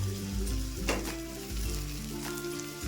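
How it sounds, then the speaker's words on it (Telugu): Cleaned goat tripe hits a hot pressure cooker with a loud, steady sizzle and hiss, broken by a couple of stirring scrapes, close and without talk. "ఈ బోటిని మనం ఇందులో వేసేసుకోవాలి కుక్కర్లో"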